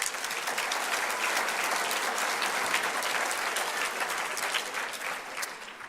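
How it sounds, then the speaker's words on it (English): A crowd claps in a dense, sustained burst of applause that stays strong throughout and tapers slightly at the end. "Please give them a round of applause."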